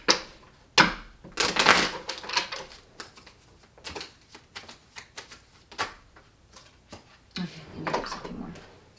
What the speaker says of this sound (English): I'll do another shuffle here.